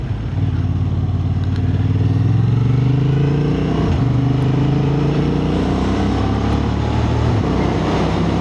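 A Honda Hornet 750 motorcycle being ridden, its engine humming loud and steady from close range, pitch rising and falling with gear changes under continuous wind rush.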